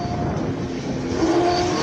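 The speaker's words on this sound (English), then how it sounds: "Jean-Pierre van der Velde launches with the Ferrari 296 GTB." A Ferrari 296 GTB launching at a hill climb in Cape Town, with a loud, sustained engine roar whose pitch climbs steadily through the short burst.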